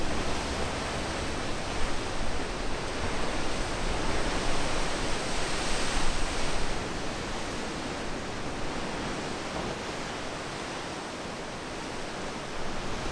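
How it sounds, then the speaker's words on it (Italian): Ocean waves crashing against lava rock sea cliffs, a dense, steady roar of surf and spray filling the air, swelling slightly midway, with no voices. "Poi ora ci sono tutte le onde che spingono,"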